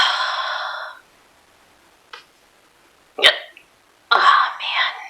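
Repeated hiccups from a person, three or four short sharp bursts separated by quiet gaps, close to the microphone, with soft breathy vocal sounds before them.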